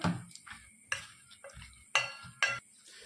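Flour, salt and spices stirred together in a bowl, heard as a series of distinct scrapes and clinks of a spoon against the bowl, about six strokes spaced through the quiet; no voices.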